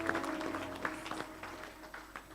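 Church congregation clapping in praise during an evangelistic service, a scattered patter of claps mixed with voices and sustained musical tones, moderately loud and continuous.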